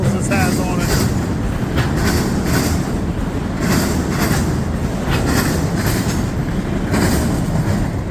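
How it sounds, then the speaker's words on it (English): A long freight train, including empty auto rack cars, rolls past close by with a continuous loud rumble and rhythmic clickety-clack of wheels over rail joints, and occasional faint wheel squeal. "This is a long train."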